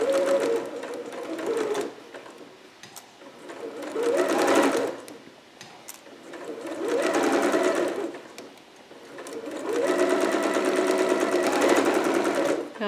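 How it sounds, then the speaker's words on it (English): A home sewing machine stitches a 5/8 inch seam with a back stitch on a Vogue 8280 garment, running in several sustained humming, whirring bursts separated by brief pauses, close and steady. "Just going to stitch that a little, do my back stitch"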